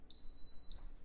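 A high-pitched electronic beep from an Instant Pot pressure cooker sounds once, steady and fairly faint, lasting about half a second against quiet room background.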